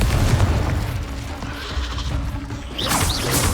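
A Confringo blasting spell cast in combat in Hogwarts Legacy, loud and close: a booming, crashing explosion with rumbling debris, then a second burst layered with swishing magical whooshes.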